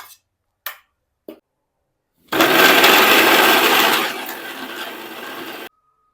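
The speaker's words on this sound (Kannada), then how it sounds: "ಇವಾಗ ನಾವು ಟೊಮೊಟೊನ ಮಿಕ್ಸರ್ ಹಾಕಿದ್ದೀವಿ" A mixer grinder blends tomatoes in a loud, steady whir lasting about three seconds that eases to a lower drone before cutting off abruptly, preceded by a few short knocks.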